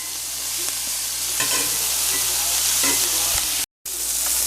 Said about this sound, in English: And you saute these until they're wilted.